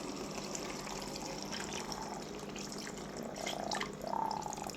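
Water from a glass being poured into a pan of spicy fish curry, a steady liquid pour with a brighter splashing surge near the end, close and fairly quiet.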